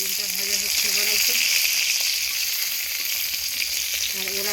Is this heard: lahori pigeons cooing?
no